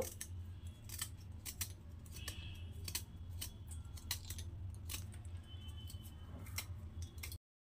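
Taro corm being peeled with a knife in a kitchen, giving a run of sharp, close scraping clicks and scratches at an uneven rhythm over a steady low background hum.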